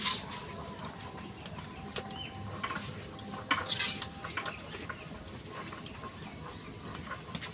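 Rohu fish pieces go into a simmering curry in a pan: soft plops and light clinks of utensil against metal over a faint background hiss, with no talking.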